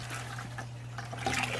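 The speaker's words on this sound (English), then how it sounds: "Then you got the water filling up" Water running through a siphon tube into a cheap, low-maintenance saltwater fish tank, a steady soft trickle and splash with a low hum underneath, no talking.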